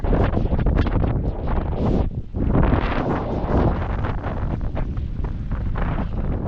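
Strong northeast monsoon wind on an island, buffeting the microphone in loud, continuous rushing gusts with a brief lull partway through.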